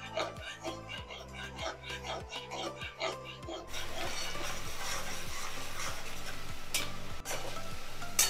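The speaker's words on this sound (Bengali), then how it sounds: "আমি পেঁয়াজ বেরেস্তা করার জন্য আমি পেঁয়াজগুলো ছেড়ে দিচ্ছি।" Onions dropped into very hot mustard oil for crisp frying, a steady broadband sizzle that jumps louder partway through and then holds, with rhythmic stirring scrapes and faint voice underneath.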